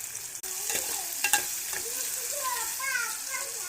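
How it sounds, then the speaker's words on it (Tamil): Ingredients sauté for Tamil vatha kuzhambu, sizzling and crackling in a hot pan with a pinch of rock salt while a utensil stirs and scrapes a few times; close and continuous. "இதையும் சேர்த்து நல்லா வதக்கிக்கணும்"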